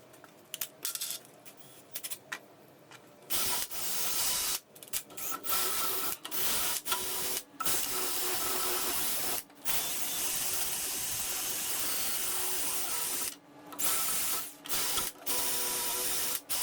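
Wire wheel scrubbing metal on a 1964 AMC Rambler American during motor mount work, a harsh rasping grind in repeated bursts with short pauses between passes, fairly quiet overall.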